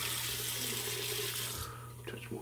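Water runs steadily from a tap into a sink during a shave, a close, constant hissing rush that thins out near the end.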